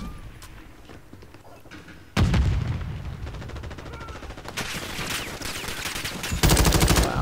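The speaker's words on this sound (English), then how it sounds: "I don't see anybody, but I'm gonna shoot anyway." Gunfire in the video game Modern Warfare 2, played on PS5, with dense bursts of shots cracking through a busy battle mix that jumps louder partway through and again near the end.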